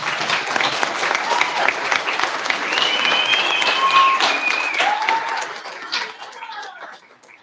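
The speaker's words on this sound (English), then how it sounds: "Now we can give them a big round of applause" Audience at a school board meeting applauds steadily, a dense crowd clapping that carries on with some voices mixed in before tapering off near the end.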